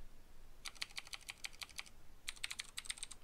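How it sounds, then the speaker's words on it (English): Fingers tap a computer keyboard in two quick, close bursts of crisp keystrokes, separated by a short pause. The room is otherwise quiet. "If I can type straight, that would be great."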